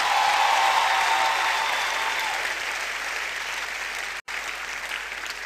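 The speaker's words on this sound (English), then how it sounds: "I think we should give them another round of applause." An audience at a stage drama production claps in a loud, sustained round of applause that tapers slightly over several seconds, with a brief cut near the end.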